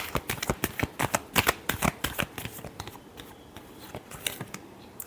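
Tarot cards shuffled by hand with a rapid run of crisp riffling snaps, loud and close, easing to softer, sparser flicks toward the end with no talking.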